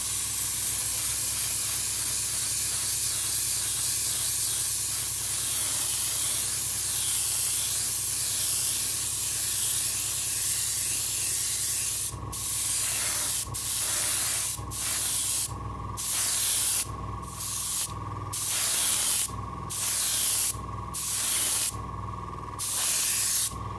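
Airbrush spraying Vallejo pale blue-grey base coat onto a plastic Star Wars Venator model kit: a continuous hiss at first, then a string of short spray bursts broken by brief pauses, close and loud with no talking.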